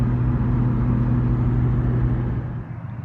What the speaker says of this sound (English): Anyway, beautiful car purring along.